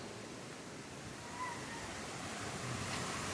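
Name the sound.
Panchalinga waterfall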